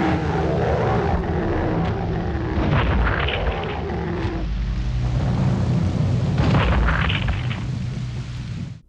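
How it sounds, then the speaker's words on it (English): Heavy booming blasts from a gun in Nightmare Creatures 2 as an enemy bursts apart, with deep low rumbles and crackling debris over a dense game soundscape, one burst near the start and another around two-thirds through. "One results in the enemy exploding into pieces."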